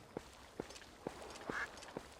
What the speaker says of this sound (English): Is that a duck? Since when are there ducks in this game?